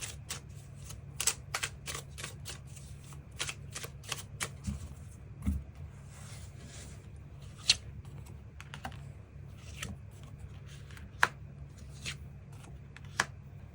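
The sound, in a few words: tarot cards being shuffled and drawn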